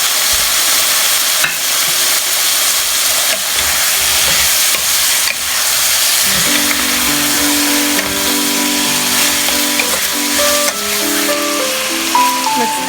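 Seared beef returned to a pot of spices for a beef and vegetable stew sizzles and fries steadily, with close stirring scrapes and a continuous hiss throughout, no talking.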